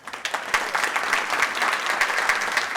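Audience at a county government event applauding a visiting mayor, a full burst of clapping from many people that swells quickly and stays dense and loud to the end.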